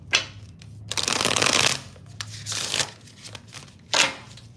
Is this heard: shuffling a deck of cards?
yes